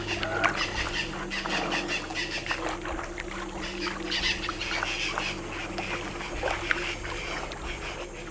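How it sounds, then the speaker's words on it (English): A bird in the Amazon jungle near a river gives repeated harsh squawking calls over a steady background rumble and hiss. "there's this bird that seems to be warning me"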